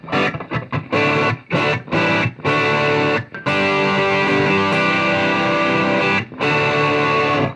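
Heavily distorted electric guitar plays loud, choppy chords followed by a long sustained crunchy strum, close and saturated, with no talking.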